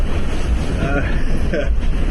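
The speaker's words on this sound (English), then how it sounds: "the breaking and the spray is getting whipped up off the tops of the waves" Rough sea waves break and spray around a Vendée Globe racing sailing yacht, a loud, close, continuous wash of water churned by heavy wind noise.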